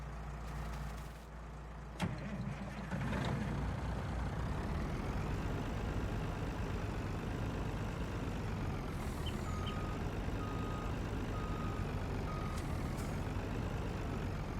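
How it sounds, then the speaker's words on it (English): A black Warrior truck in Farming Simulator 19 runs steadily with a low engine drone throughout, with a brief clunk near the start and faint reversing-style beeps in the background. "Let's get a truck."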